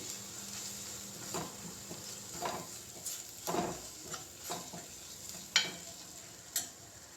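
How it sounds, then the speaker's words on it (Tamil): Masala spices frying and being stirred in oil for a pea and potato kurma, with a soft steady sizzle broken by scattered scrapes and clinks of a spoon against the pan. "அதில் மசாலா பொருட்களை வந்து எண்ணெயில் கொஞ்சம் பச்சை வாசனை போகுது வரைக்கும் வதக்கும்."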